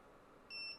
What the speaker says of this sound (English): That's that lost quad alarm